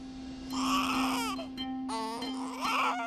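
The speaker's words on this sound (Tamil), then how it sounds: "குழந்தை அழுதுகிட்டே இருக்கு, அழுகை நிப்பாட்ட மாட்டேங்குது." An infant wails in repeated harmonic bursts with brief catches of breath between them, close and loud over a steady electrical hum.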